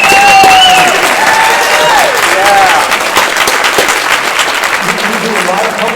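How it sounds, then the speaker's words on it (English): Audience applause for Solomon at a cannabidiol talk, a loud, dense crowd clapping that holds steady for about six seconds, with some whistle-like tones and voices mixed in. "big round of applause for Solomon"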